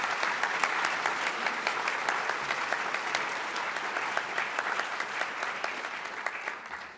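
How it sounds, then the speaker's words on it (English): An academy audience claps for four declamation finalists, producing a lively, sustained round of applause with distinct individual claps throughout that thins out at the very end. "A round of applause, please, for our 4 finalists."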